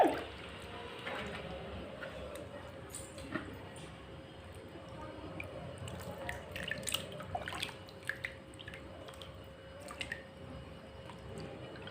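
Grapes washed by hand under running water for homemade grape wine: a steady faint trickle and splash of water with soft squishing and dripping, no talking.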